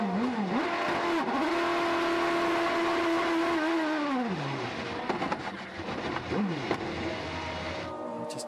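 Onboard sound of a 2008 IndyCar race car pulling out of pit lane at Watkins Glen: a loud, close engine whine rises and falls through gear changes, dropping sharply near the midpoint before revving again, with wind and mechanical rattle throughout.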